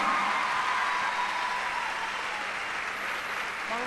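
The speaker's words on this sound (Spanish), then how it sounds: "un aplauso grande para todos" An audience at a tropical-style concert show applauds loudly and steadily, with dense continuous clapping and faint cheering that fills the whole stretch.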